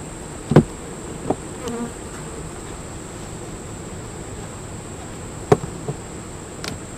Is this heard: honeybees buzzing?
yes